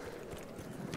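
Horse galloping in Battlefield 1, a quick, continuous drumming of hooves blended into a dense rumble, close and steady throughout the short stretch.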